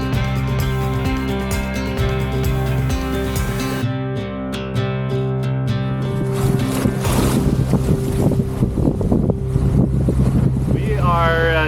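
Wind rushing over a Balance 526 catamaran sailing at sea in sporty, variable Mediterranean conditions off Cannes, a steady broadband roar with rising gusts and buffeting against the microphone, tonal hum underneath and a voice talking briefly over it.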